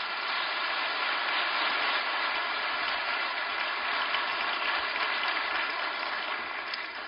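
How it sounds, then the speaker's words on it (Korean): A church congregation at a special dawn prayer service applauds to welcome the pastor, a thick, even wash of many hands clapping that continues unbroken for seven seconds, slightly muffled, with no voices. "우리 큰 박수로 우리 목사님 환영하겠습니다"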